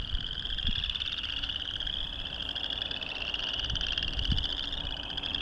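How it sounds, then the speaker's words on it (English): A continuous chorus of frogs trilling in a pond at Viking Lake, Iowa, a high pulsing buzz that never stops, with faint low thumps beneath it in an otherwise quiet outdoor setting. "you can hear the trill of the frogs in this pond."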